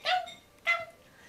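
A Dalmatian gives two short, sharp barks about half a second apart, close and clear against a quiet background.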